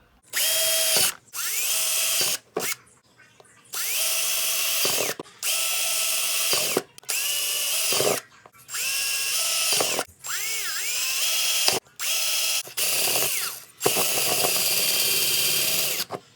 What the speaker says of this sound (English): Alright, time to drill.